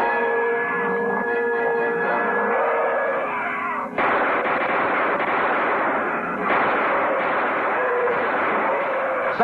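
Gunfire in a film scene from a submarine adventure series, with a sudden loud burst partway through over steady dramatic background sound, followed by another surge.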